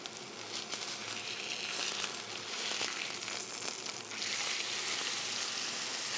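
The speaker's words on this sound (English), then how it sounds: "That's the first time I use this pan to fry meat." A ribeye steak fries in a pan on an induction plate, giving a steady, close sizzling hiss that swells and settles slightly as it cooks, with no voices.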